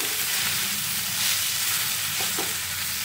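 Flattened rice (poha) being stirred with vegetables and spices in a hot pan, a steady close sizzle and soft scraping running throughout with no speech.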